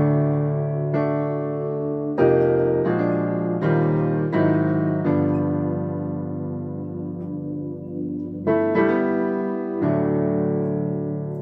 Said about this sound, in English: So now let me play it in context.